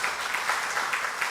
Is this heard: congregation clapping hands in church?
yes